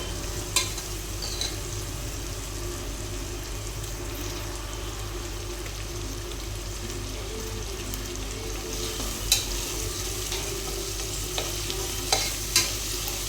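Oil and masala frying inside a pressure cooker before chicken goes in, a constant low sizzle and bubbling hiss with a few faint spoon taps, close and steady with no voices.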